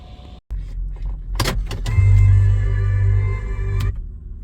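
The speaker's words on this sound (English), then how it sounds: "So we are driving right inside to see the residential." A car rolls slowly through a waterfront residential estate in Lekki, Lagos, its engine a steady low hum from inside the cabin, with a brief whirring of a power window.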